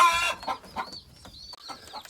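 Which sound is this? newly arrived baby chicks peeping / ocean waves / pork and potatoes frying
newly arrived baby chicks peeping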